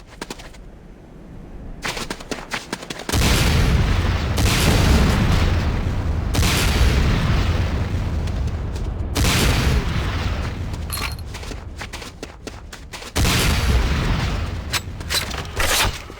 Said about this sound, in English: Next up is the Sakoze 66mm Type R12 Locust automatic rocket launcher.